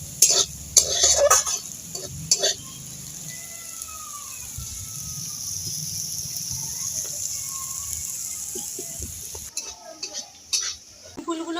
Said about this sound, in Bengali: আপনারা যদি শুধু নিমফুল ভাজা খান তাহলে এই রকম ভেজে তুলে রাখতে পারেন